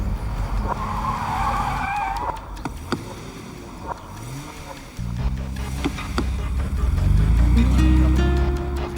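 A car in a Hindi action film skids to a stop with a long tire squeal that shifts in pitch, loud and close over a busy, dramatic background mix.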